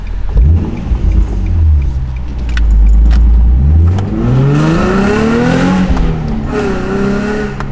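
A Nissan 350Z sports car engine revs and climbs through gears, its pitch rising in sweeping arcs, heard up close from inside the vehicle.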